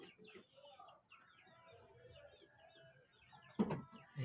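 Chickens clucking and calling in a rural backyard where pigs are also kept, soft and somewhat distant with a sharper, louder cluck near the end and faint voices in the background.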